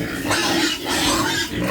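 Hungry pigs on a rural farm squeal loudly and continuously for a couple of seconds, high grating cries overlapping with brief dips between bursts, close by with no talk.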